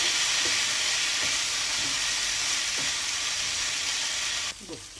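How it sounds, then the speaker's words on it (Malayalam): Boiled chicken gizzard is stirred into spices frying in a pan for a pepper fry, giving a steady close sizzle with a few soft stirring scrapes and a brief clatter near the end. "ഇനി ഇതിലേക്ക് നമുക്ക് ചെറുതായിട്ട് നുറുക്കിയിട്ട് ചിക്കൻ ഗിസാഡ് വേവിച്ചെടുത്തിരിക്കുന്ന ചിക്കൻ ഗിസാർഡ് ഇട്ടിട്ട് നല്ലോണം ഒന്ന് മിക്സ് ചെയ്ത് കൊടുക്കുക."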